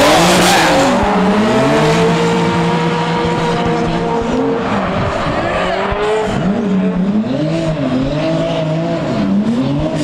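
Tandem drift cars in competition, run wide along a wall with lots of smoke and angle, engines howling and rising and falling with shifts, tyres squealing continuously, loud and close, under a commentator's voice.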